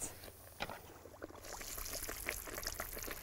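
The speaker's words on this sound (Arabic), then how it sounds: "تعالوا نحط العجينه دي نقلل الدقيق قد ما نقدر بشويش في الزيت" Pizza dough slid gently into hot canola or sunflower oil gives a soft, faint sizzle and bubbling that thickens and grows steadier partway through.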